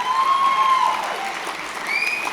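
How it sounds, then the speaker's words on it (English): Audience applause at a conference gathering after a speaker is thanked, a continuous wash of clapping with some whistles or feedback tones riding over it, steady and moderately loud throughout. "Give him a round of applause."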